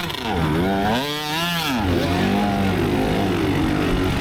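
Dirt bike engine roaring through throttle changes on a muddy hill during a BattleCreek Mudder race, loud and close, pitch climbing and dropping as the revs rise and fall.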